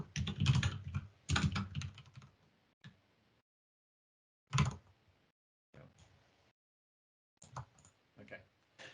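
Typing on a computer keyboard in a terminal, with bursts of clustered key clicks separated by pauses of near silence, loud and close, the strokes coming in short irregular runs.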